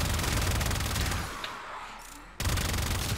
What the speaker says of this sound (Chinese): 然后就把它变成机枪，然后拿在那边扫